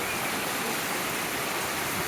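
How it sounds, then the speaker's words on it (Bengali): Heavy rain pours down in Cox's Bazar in a dense, steady roar that fills the whole moment without pause. "প্রচণ্ড বৃষ্টি হচ্ছে পুরো কক্সবাজার ডিস্ট্রিক্টে"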